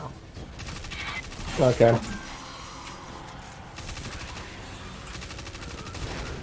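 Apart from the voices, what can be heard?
submachine gun fire in the video game Destiny 2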